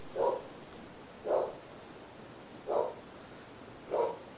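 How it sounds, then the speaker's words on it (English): A dog barks four times at an even, unhurried pace, each single bark clear and moderately close against a quiet, steady room hum, recorded on a Marantz Professional SG-5B shotgun condenser microphone in supercardioid pattern. "You're hearing Jack bark now."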